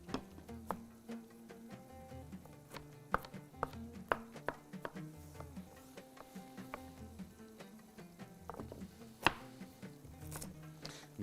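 Unpeeled carrots chopped in half with a knife on a cutting board, a steady run of sharp, close knocks at an uneven rhythm over faint kitchen background, with no talking.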